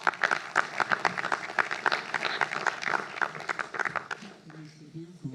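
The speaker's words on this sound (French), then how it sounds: "Vous pouvez les applaudir." A conference audience at a regional meeting on fighting poverty gives a sustained round of close, crisp clapping, dying away at the end as someone starts to talk.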